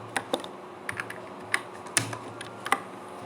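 Typing on a computer keyboard: about a dozen separate, crisp key clicks at an uneven pace, close and clear over faint background hum.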